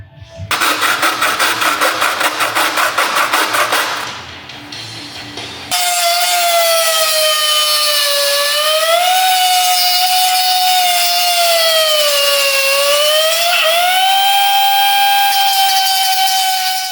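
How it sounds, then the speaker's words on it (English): A power tool grinding a fiberglass motorcycle fender on a Kawasaki Ninja 400: a loud rattling burst at first, then a sustained, piercing whine that wavers up and down in pitch as the tool bears on the material. "Gotta love grinding some fiberglass."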